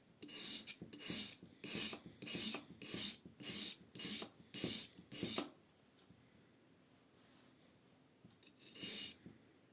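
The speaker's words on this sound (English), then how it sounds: "You can use this piece and sharpen it as is." A knife blade is drawn across a sharpening stone in nine steady, evenly spaced rasping strokes, close and crisp, then a pause and one final stroke.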